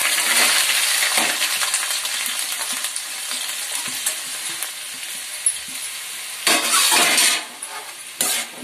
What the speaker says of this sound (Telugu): ఇందులో ఇప్పుడైతే ఉల్లిపాయ ముక్కలు వేసేసుకుందాం